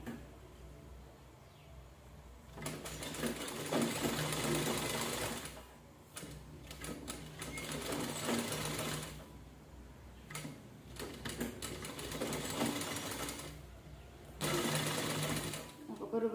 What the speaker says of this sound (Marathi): आपण पुन्हा एकदा शिलाई करून घेऊया त्याच्यावरनं.